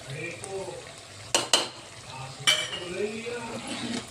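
Chicken korma sautés with korma masala in a pan, a soft, steady sizzle broken by a few sharp metallic clinks of a utensil against the pan, with a faint voice murmuring in the background.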